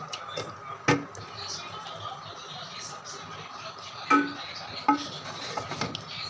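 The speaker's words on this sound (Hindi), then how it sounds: "चमचे की मदद से हम बैंगन इसमें शिफ्ट करेंगे।" A metal spoon scrapes and clinks against a plate while cooked dhaba-style masala eggplant curry is served, a few sharp taps scattered over soft background noise, with someone speaking.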